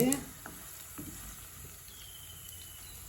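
Onions sauté until golden in a pan for chicken curry, a faint steady sizzle under a quiet room with a few soft utensil clicks.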